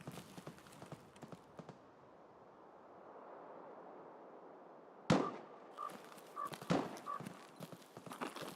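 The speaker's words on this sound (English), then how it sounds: "they're shooting at me" Gunfire in the Escape from Tarkov PvE video game: a few faint early cracks, a quiet stretch, then a loud sharp shot followed by a scattered series of further reports at moderate distance.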